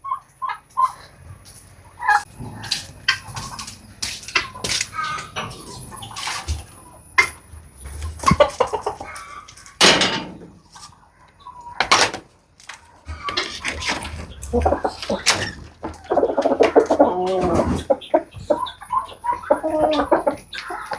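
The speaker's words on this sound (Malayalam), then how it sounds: "നമ്മുടെ കോഴികൾക്ക് തീറ്റിട്ട് കൊടുക്കട്ടെ" Chickens in a coop cluck and squawk loudly while being fed, a busy, uneven flurry of calls and bursts close by, with an occasional human voice mixed in.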